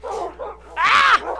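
A Minecraft video game dog gives a couple of short whimpering yips followed by a louder, higher bark, close and clear with no talking.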